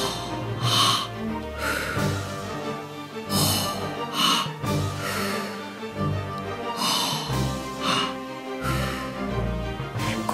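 Guided breathwork: deep nasal inhalations filling belly then chest, followed by audible releasing exhales, repeating in slow cycles with rushing breath sounds close to the microphone.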